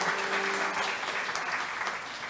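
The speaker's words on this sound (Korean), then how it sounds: "네 분께 다시 한번 큰 박수 부탁드립니다" Audience applause at a university anniversary ceremony, a steady crowd of clapping heard from within the hall, continuous and moderately loud for the whole stretch.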